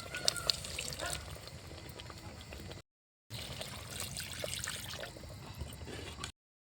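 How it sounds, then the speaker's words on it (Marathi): Water trickles and splashes into a pot in a close, continuous stream, briefly stopping and then pouring again. "आता पाणी टाकते."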